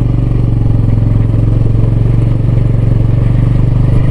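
A battered motorcycle grinds along a rough, dangerous off-road trail, its engine humming near and constant with a throbbing low drone and steady mechanical clatter, no voices heard.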